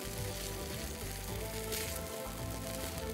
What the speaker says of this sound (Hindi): थोड़ा सा मैं इसको तेज़ आँच पर झटपट से पका लेती हूँ।